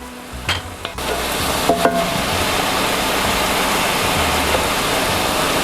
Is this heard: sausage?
yes